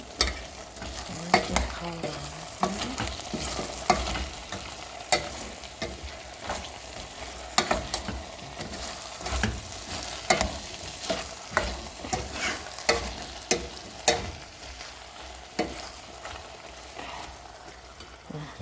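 Garlic sizzling in a pan with a steady fry, while a utensil scrapes and stirs in repeated strokes, close and fairly loud.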